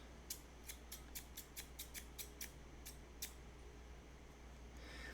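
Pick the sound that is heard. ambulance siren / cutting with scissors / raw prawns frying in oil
cutting with scissors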